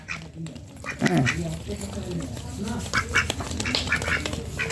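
Male ducks quack repeatedly at close range, raspy calls scattered through the stretch, mixed with some background voices and farmyard noise.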